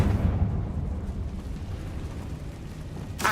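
Magical spell explosions from Bombarda and Confringo in Hogwarts Legacy: a deep, rumbling blast that lingers and slowly decays, followed by a sharp new burst right at the end.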